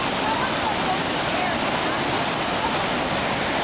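Rushing whitewater at Hogsback Falls roars as a steady, loud, dense wash of broadband noise throughout, with no breaks.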